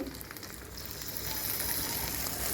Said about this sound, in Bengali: চিংড়িটা দিয়ে আমি ভালো করে নেড়ে চেড়ে দিচ্ছি